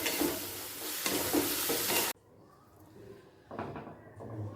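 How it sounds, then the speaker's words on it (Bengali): Mung dal with winter vegetables and ground cumin being stirred in a pot: loud, dense scraping and sizzling for about two seconds, a brief quieter pause, then the stirring picks up again. "দিয়ে দিচ্ছি হাফ চামচ জিরে গুঁড়ো আবারও ভালো করে মিশিয়ে নিলাম"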